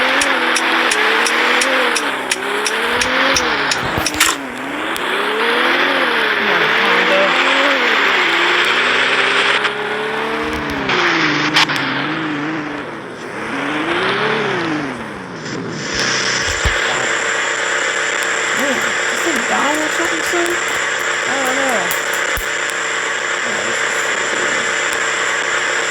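A family car that always has a hard time starting on a snowy road, with its engine grinding and revving in wavering, strained surges, loud and continuous with rattling throughout.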